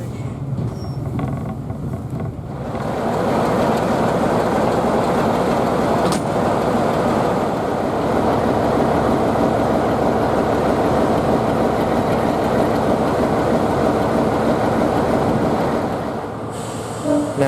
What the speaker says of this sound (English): the 45 departs the train up to the end of Dereham Loop